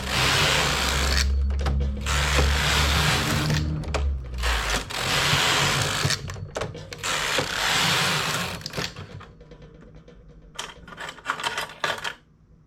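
Knitting machine carriage swept back and forth across the needle bed while knitting rows of a ruffle for a child's knitted dress, long loud whirring passes broken by short pauses and quieter clicks near the end.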